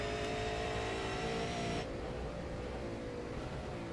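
A V8 Supercar engine roars onboard during a 2016 race at a steady high pitch, then the tone drops sharply partway through as the driver lifts or shifts, continuing loud and close with no talk.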